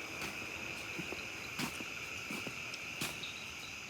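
Insects chirp steadily beside a high-running river at an eco camp, a continuous high shrill over a constant rush of water, with a few sharper clicks and chirps standing out now and then.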